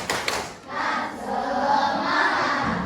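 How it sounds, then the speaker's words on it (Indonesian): A school class performs a spirit clap and shout, with a few sharp claps at the start followed by a rising, blended group cheer of many young voices, moderately loud and close. "Tepuk semangat"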